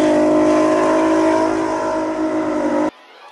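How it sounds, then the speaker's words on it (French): A Volkswagen Golf 5 R32 with its V6 engine runs loud and close in a steady, throaty rev before the sound cuts off abruptly near the end. "dès que vous démarrez le moteur, quel plaisir rien qu'à l'oreille"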